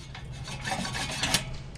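Reel lawnmower blades on a Yardworks mower are spun fast by a drill during sharpening, giving a soft, continuous rasping scrape. It stays fairly quiet and swells briefly near the end, with no talking.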